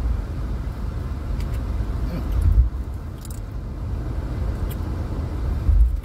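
A car driving on a road makes a steady low rumble from inside the cabin, with a couple of brief bumps. Someone talks over the engine and road noise.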